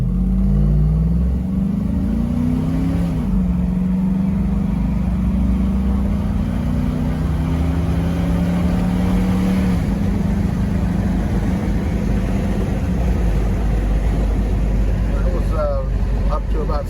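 Steady engine drone from a 1987 Toyota FJ60 fitted with a 5.3 Vortec V8 driving down a road, a continuous loud rumble with gear shifts and rising revs, under a voice.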